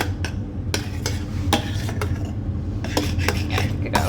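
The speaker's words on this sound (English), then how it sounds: "Give that a bit of a stir down." A spoon scrapes and knocks against a pot while thick, scorched hot-process soap is stirred, giving a run of irregular clinks over a steady low background.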